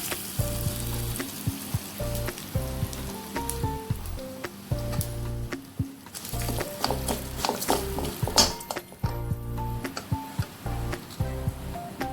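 Hot tempering poured into a coriander and curry leaf chutney, crackling and sizzling loudly up close with scattered pops and spatters for several seconds, music playing underneath, no talking.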